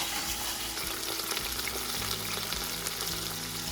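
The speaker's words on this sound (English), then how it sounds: "Hear that sizzle." Steady, loud sizzling of beef searing in a hot Instant Pot, a dense crackling hiss with occasional pops, no voices.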